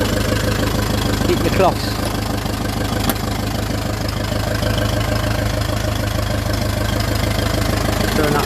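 A 1951 Ferguson TE20 tractor engine idles steadily after a cold start, a loud, close, even chugging rumble with a brief voice speaking over it.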